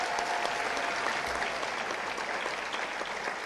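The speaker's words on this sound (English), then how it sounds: "Give a round of applause for all of our Governor Merit winners" Sustained applause from a large audience at a high school awards program, honoring Governor Merit winners; steady, dense clapping fills the whole stretch with no voices on top.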